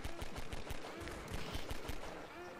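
Rapid, closely spaced shots of automatic gunfire crackle through a Half-Life 2 Synergy multiplayer match, a dense string of sharp bursts at moderate loudness.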